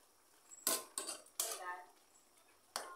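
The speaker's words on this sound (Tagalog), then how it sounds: "Tapos, halo na konti." A utensil clinks and scrapes against a pot while stirring ginataang pusit, squid in coconut milk, four or five distinct metallic knocks spaced over a few seconds, close and fairly clear over quiet background.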